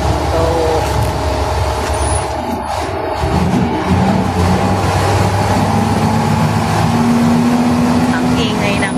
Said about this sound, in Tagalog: ang ingay ng bus.